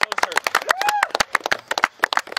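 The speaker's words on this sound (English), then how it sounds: "clap it up, clap it up" Team members clap repeatedly in a practice huddle during a basketball workout, sharp uneven claps close by, overlapping voices and shouting.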